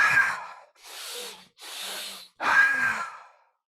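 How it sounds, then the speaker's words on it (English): A person takes a big breath in through the nose and lets it out through the mouth, repeated as two full inhale-exhale cycles: loud, close, airy rushes separated by short pauses, with no speech. "a big breath through the nose and then breathing out through the mouth"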